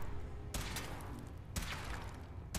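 Three heavy shotgun blasts during a test of a protective suit, spaced about a second apart. Each is a loud, sharp report that rings out briefly.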